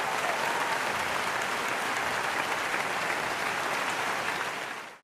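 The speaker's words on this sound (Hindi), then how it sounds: "जोरदार तालियों के साथ" A seminar audience applauds loudly and steadily to welcome a speaker, a dense wash of clapping that carries on without pause before ending abruptly.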